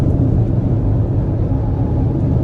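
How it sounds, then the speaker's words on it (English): Steady low rumble of highway traffic on I-85 near Greenville, heard from inside a moving Ford Mach-E. The road and tire noise is constant and fairly loud, and no one speaks. "More Greenville traffic."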